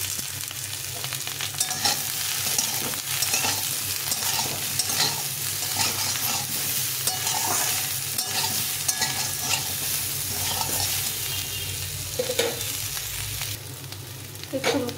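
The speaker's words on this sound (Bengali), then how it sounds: "একটু হলুদ গুঁড়ো, একটু লবণ দিয়ে এটাকে ভেজে নিই।" Cauliflower with turmeric and salt sizzles steadily in a hot pan while being stirred, a continuous close frying hiss with occasional scraping strokes, no voices.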